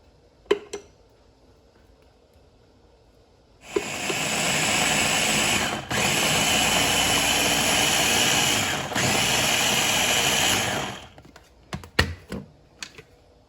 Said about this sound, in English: And that's a blender, right? Any type of blender.